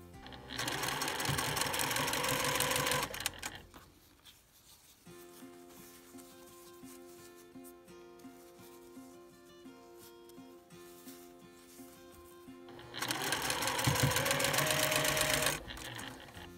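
Sewing machine stitching pieced fabric for a Dresden plate quilt, loud steady motor run for about three seconds, then quieter fabric handling and a low hum, before a second loud burst of stitching near the end.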